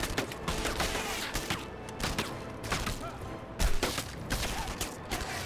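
Gunfire in the video game Enemy Front comes as rapid bursts of close, sharp shots that repeat in quick clusters over a dense background of game action, with no clear talking.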